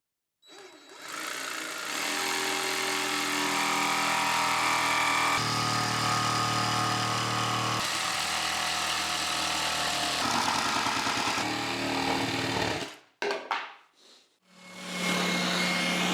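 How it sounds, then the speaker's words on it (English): Jigsaw cutting a curved line through a plywood crosscut sled base, a steady loud buzzing motor with rapid blade chatter running for about twelve seconds, then briefly stopping and restarting. "I'm going to do this with my jigsaw."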